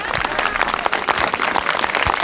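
An audience at a live Hindi-language exam-update session claps steadily in dense applause, loud and continuous throughout, with a voice faintly underneath.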